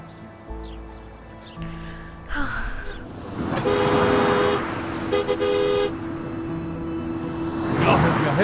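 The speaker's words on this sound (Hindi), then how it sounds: "हॉर्न नहीं सुन रहे हो तुम?" Horns honk repeatedly, loud and close, a few sustained blasts over a busy street with brief voices.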